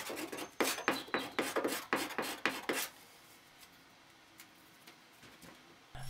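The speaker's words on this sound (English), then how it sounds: "I peel off the pattern and then use a metal scraper to remove stubborn spots of glue." Metal scraper pulled in quick repeated strokes across a sign to remove stubborn glue, about ten sharp scraping rasps in rhythm, close and clear, followed by a few seconds of quiet with faint handling noise.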